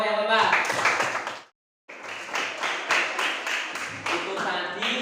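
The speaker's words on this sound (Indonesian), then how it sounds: "Ya, tepuk tangan untuk kelompok yang keempat." Classroom students clapping for the fourth group after its presentation, a loud close burst of applause that stops abruptly, then resumes with steady rhythmic claps.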